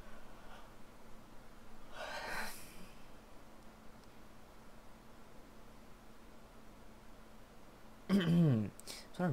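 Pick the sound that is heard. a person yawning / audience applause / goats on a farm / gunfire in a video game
a person yawning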